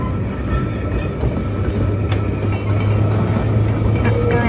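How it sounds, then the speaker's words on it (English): An electric tram on the Isle of Man pulls away, a steady low rumble with faint rail clatter running throughout, fairly even in level and heard at moderate distance. "There's the electric tram pulling away."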